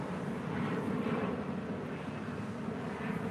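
An American Airlines A321neo jet at LAX, a steady, loud, broad engine roar that stays constant from start to finish with no voices.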